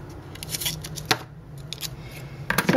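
Scissors cutting a small piece of acetate during a card-making craft session, a few quiet crisp snips close up, with soft handling rustles around them.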